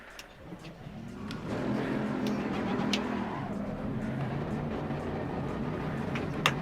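An F4 race car in a racing sim game fires up and its engine rises into a steady droning rev, moderately loud, with faint clicks on top and no talking.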